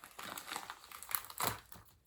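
Plastic packaging around a Transformers toy crinkles and tears as it is pulled open by hand, a run of close, irregular rustling crackles with a louder rip near the end.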